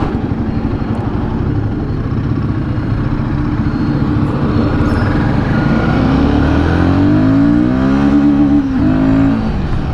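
A Royal Enfield Guerrilla 450 motorcycle accelerates on a highway, a steady loud engine and wind roar with rising revs through the gears toward the end, no talking.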